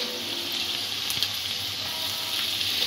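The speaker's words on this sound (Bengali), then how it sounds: "এই অবস্থাতেই আদা আর রসুনটা দিয়ে দেব।" Ginger and garlic go into a pan of onions already frying for crispy noodles, producing a steady, close sizzle with faint stirring and no talk.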